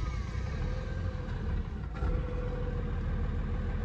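A diesel truck with a manual transmission runs at a steady idle, a continuous low rumble heard close up from inside the cab, holding an even level throughout with no voices.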